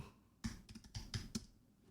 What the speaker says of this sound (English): yes, I am typing this in real time in here